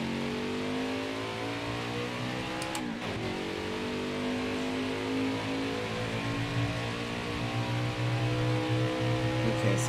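A race truck engine drones and revs steadily in NASCAR Heat 5 qualifying at Pocono, loud and continuous with rising and falling pitch as gears shift, holding strong throughout.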